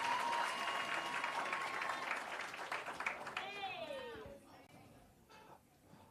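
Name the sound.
audience applause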